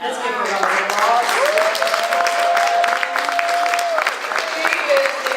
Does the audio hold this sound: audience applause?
yes